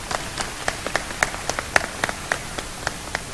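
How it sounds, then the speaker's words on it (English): Sparse claps from an audience at a freshman welcome ceremony, a dozen or so separate sharp claps spaced unevenly across the clip, fairly quiet and thin rather than a full ovation, with no talking. "let's give them a round of applause as well"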